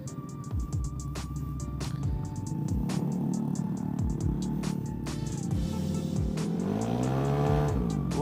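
A fast-ridden Vespa Sprint scooter on the road in Bogor, its small engine buzzing loudly and continuously as it accelerates, with repeated swooshes of passing vehicles and a rising whine near the end.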